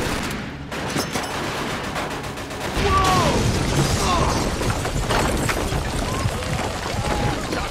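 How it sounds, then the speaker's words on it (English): Machine gun fire through a window during a World War II mission in the video game Mafia II, a dense, loud rattle of rapid shots with booms and mechanical clatter, intensifying midway and continuing throughout. "Looks like we found the machine gun!"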